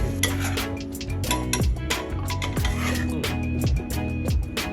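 Dishes and utensils clatter and clink as food is served onto plates in a home kitchen, a busy run of close metallic taps and scrapes over a steady background hum.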